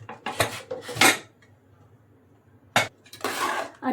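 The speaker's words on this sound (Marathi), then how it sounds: "झाकण काढून घ्यायचं आपण।" A metal pressure cooker lid being removed after cooking carrot halwa, several sharp metallic clanks and scrapes in two bursts separated by a quiet pause, close and loud.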